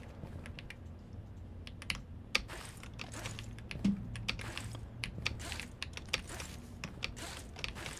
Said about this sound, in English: it's gonna be keyboard noises of the game